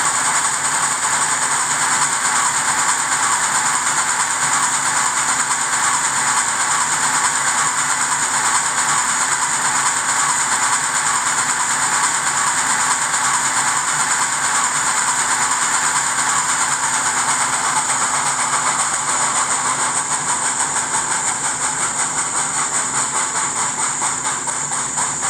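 American Flyer model steam train motor runs continuously with a steady whirring hum and a synthetic chuff, even and unbroken, heard alone up close.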